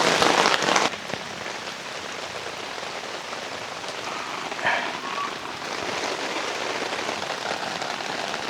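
Heavy rain pours steadily onto surfaces outdoors by Chandava Lake in Cavinti, Laguna, a dense, constant hiss with a louder burst at the start and no voices.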